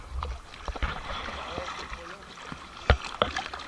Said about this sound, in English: The waves, they're gonna get us.